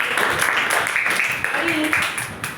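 An audience of students applauds a winning student in a classroom, scattered clapping running throughout beneath a teacher's speaking voice.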